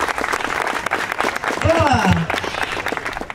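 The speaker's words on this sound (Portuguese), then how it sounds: "Palmas aí pro jurado aí, rapaziada." A crowd at a passinho dance battle tryout claps for the jury, scattered moderate applause running underneath a voice speaking briefly over it.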